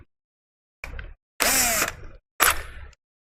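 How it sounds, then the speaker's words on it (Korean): A small drill bit bores a pilot hole for a door hinge screw in three short bursts, each a loud close whir with a quick spin-up and wind-down, separated by silence. "이렇게 해서 구멍을 먼저 뚫어주는 거예요"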